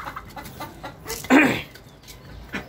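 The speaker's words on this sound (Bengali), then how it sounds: "মুরগিদের আমি দানাদার খাবারটা দিব" Chickens being fed grain give a few short, close clucks, with one louder burst near the middle and softer calls around it.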